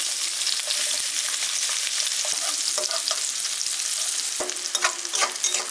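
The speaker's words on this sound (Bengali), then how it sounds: "আর একটু পেঁয়াজটারে ভাজতে নেব" Chopped onion fries in hot oil with black cumin and green chili, giving a dense, continuous sizzle up close, with occasional stirring taps and scrapes and no voices.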